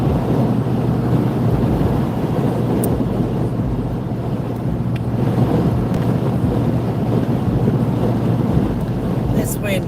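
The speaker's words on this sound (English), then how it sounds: "Wind's kicking up again, guys." Strong wind buffets the microphone continuously with a steady low roar, heard outdoors at night during a drive to East Palestine, Ohio, with no clear speech.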